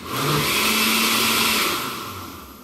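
A blender blending potato soup whirs loudly and steadily for about two seconds, then winds down as the motor slows.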